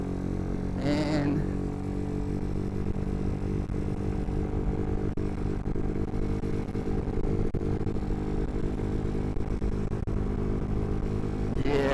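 A GY6 scooter engine on its stock 30mm carburetor runs at full throttle, a steady close buzzing hum holding level throughout with a brief flutter near the start.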